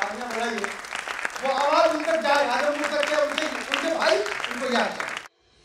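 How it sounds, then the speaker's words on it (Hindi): Audience applause at an award ceremony in Bhiwani, steady clapping rising and holding for about five seconds under a speaker's voice, then cutting off abruptly. "तो आप सब एक बार उनके भविष्य के लिए, उज्ज्वल भविष्य के लिए तालियां बजाइए"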